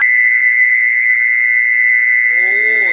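A single-frequency siren tone blares steadily from a horn loudspeaker, an M39 unit just repaired and hooked to a horn system. It is loud, piercing and unbroken, and a brief voice rises faintly underneath near the end.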